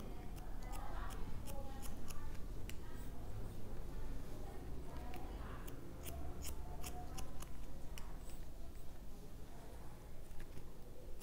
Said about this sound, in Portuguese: Todas as vezes que a tesoura abre e fecha, é porque a mecha está em 90